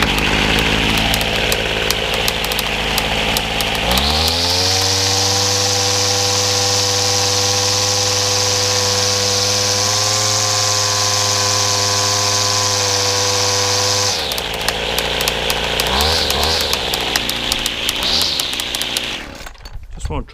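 A McCulloch strimmer with a freshly repaired fuel hose starts up and runs at a loud, steady, slightly rough high-pitched two-stroke drone for about ten seconds, then drops to a sputtering idle with brief revs.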